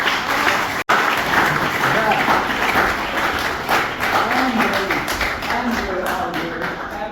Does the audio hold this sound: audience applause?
yes